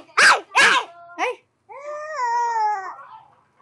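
A voice imitates a dog: two sharp bark-like yelps and a short yip, then a longer, wavering whine like a howl.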